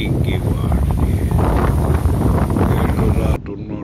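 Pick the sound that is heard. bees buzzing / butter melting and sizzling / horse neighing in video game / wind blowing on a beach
wind blowing on a beach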